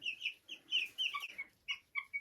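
Chicks peep in short, high chirps inside a chicken coop, a quick irregular scatter of faint calls with no talking.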